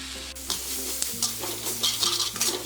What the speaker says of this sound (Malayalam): ഇതിലേക്ക് നമ്മൾ അരിഞ്ഞു വെച്ചിരിക്കുന്ന സവാള ഇട്ട് വഴറ്റി കൊടുക്കാം